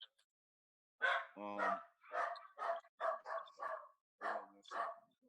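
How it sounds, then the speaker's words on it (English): A dog barks repeatedly in short, loud, closely spaced bursts with brief gaps between, heard alone against an otherwise silent background. "Keep the dog quiet for me, man."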